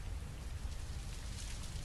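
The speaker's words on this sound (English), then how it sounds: "Excellent rain." Steady rain falls in a video game, a dense even hiss of drops with low rumbling underneath, continuous and fairly soft.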